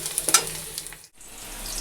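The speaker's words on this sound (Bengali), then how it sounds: "ফোড়ন দেবো। এখানে পেঁয়াজ, শুকনো লঙ্কা, কালো জিরা, তেজপাতা নিয়েছি।" Onion, dry red chilli, black cumin and bay leaf hit hot oil for a tempering, giving a soft crackling sizzle with a few sharp pops near the start, a brief drop-out, then a steady quiet fry.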